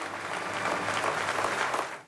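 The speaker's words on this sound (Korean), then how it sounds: "참석자들은 이날 선생 양이분의 제안에 기립박수로 화답했다" Attendees at a peace gathering rise in a standing ovation, their clapping forming a steady, even roar across the clip that cuts off abruptly at the end.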